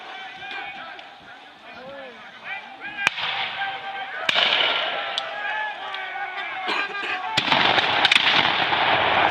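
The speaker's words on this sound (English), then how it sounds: "We have a company fire on this end, another company fire on this end of the British line, and another company preparing to fire." Musket volleys from British line companies at a War of 1812 battle reenactment at Longwoods, heard as sharp cracks and booming reports scattered through the scene, some louder and closer, over crowd noise and talk.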